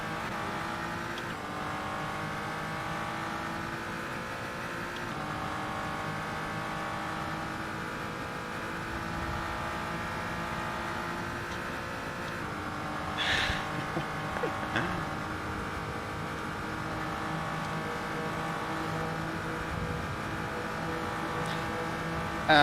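Race car engines in the Assetto Corsa video game during a night endurance race at Daytona, including a BMW, droning steadily with layered harmonic whine, brief revving swells midway, and occasional talk over the top.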